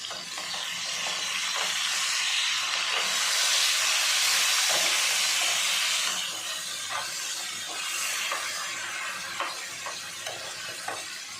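Whole fish over a kilo, its head already scored, frying in hot oil: a steady, loud sizzle and hiss that swells in the middle, with small crackles and pops scattered through it.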